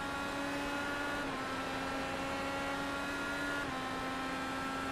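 An IndyCar race car's engine in an iRacing sim race at Road America holds a high, steady whine pinned near its rev limiter, with slight pitch dips partway through, droning continuously at moderate loudness.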